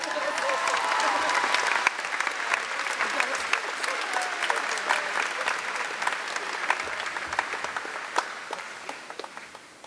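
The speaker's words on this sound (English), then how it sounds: "Give them one more round of applause." Graduation crowd at the Springfield High School class of 2016 ceremony applauds steadily for nearly ten seconds, a dense roar of many hands with sharper individual claps and cheers standing out, fading slightly toward the end.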